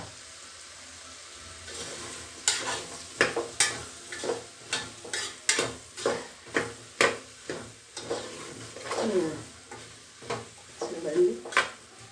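A spoon stirs Sorakaya bottle gourd curry as it fries in a pan, with repeated rhythmic scrapes and clanks over a low sizzle. A voice speaks over the stirring.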